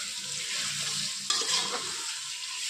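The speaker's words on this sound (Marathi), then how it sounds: "पाच दहा मिनिट आपण ह्याला परतून घेणार आहोत" Tomatoes sauté in a hot pan for mutton biryani, making a steady close sizzle throughout with a sharper burst of stirring and scraping midway.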